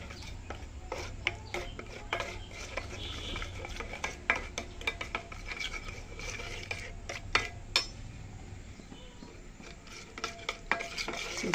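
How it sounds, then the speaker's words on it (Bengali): A spoon stirs roasted garam masala powder and cumin powder in a pan, giving steady scraping and clinking with faint sizzling, close and continuous with no talk. "সবগুলো এখন সুন্দর করে কিন্তু একদম মিক্সড করে নেব।"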